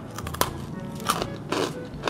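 Someone bites into crispy fruit chips and crunches them up close, with a few sharp crackling bites spread over steady soft chewing and faint mouth noise.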